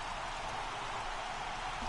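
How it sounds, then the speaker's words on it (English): Steady rain falling at a baseball ballpark before a National League Division Series game between the Chicago Cubs and San Francisco Giants, a constant even hiss with no breaks or talking. "It's raining."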